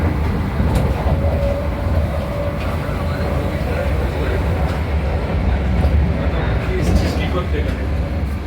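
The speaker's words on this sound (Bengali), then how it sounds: "ট্রেনের গতি মাঝে মাঝেই খুব দ্রুত, 100 কিলোমিটারের ওপরেই রান করছিল" A Vande Bharat Express train running at high speed, a continuous loud interior rumble with low roar and faint rhythmic rail clatter throughout, a voice faintly present underneath.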